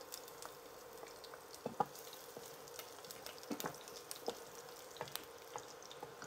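Sautéing in reused chicken-frying oil while cooking ginataang langka, a soft steady sizzle with scattered small pops and crackles, close and fairly quiet, no talk.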